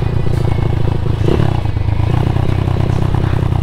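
A motorcycle fitted with a racing exhaust runs close by, a loud, rough, steady engine drone with a throbbing pulse and a brief rise in pitch partway through.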